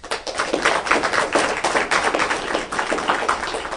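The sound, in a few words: audience applause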